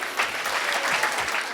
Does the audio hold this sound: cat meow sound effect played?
no